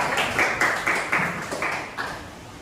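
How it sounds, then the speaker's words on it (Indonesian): A classroom group gives applause for group 2, a short burst of rhythmic clapping in even, separate claps, moderately loud and close, fading slightly toward the end. "tepuk tangan lagi untuk kelompok 2"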